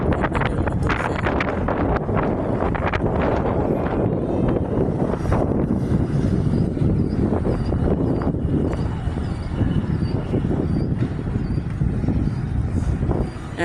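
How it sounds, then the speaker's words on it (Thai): Strong wind gusting at the top of a gate monument, a loud continuous roar and buffeting across the mic, heard alone without talk. "ลมพัดเย็นลมพัดแห้งๆมาถึงประตูแสง"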